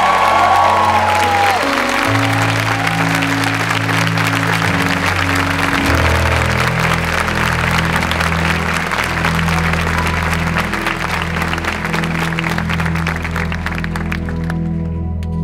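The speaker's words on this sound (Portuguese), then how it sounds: "Aplauda com força." A church congregation at a Catholic Mass claps loudly and continuously while a band's low, sustained music keeps playing underneath, the applause filling the space for the whole stretch.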